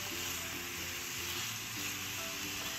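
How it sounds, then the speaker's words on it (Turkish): Peppers frying in a pan over high heat give off a steady, close sizzle that runs unbroken and without any talk. "Ara sıra karıştırarak biberler istediğimiz yumuşaklığa gelinceye dek kızartıyoruz"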